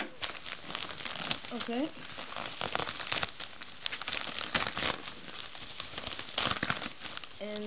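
Packaging around an aluminum-lined leather sheepskin case being cut and unwrapped, with repeated close crinkling and crumpling of plastic and paper and a few tearing bursts, while a person speaks briefly.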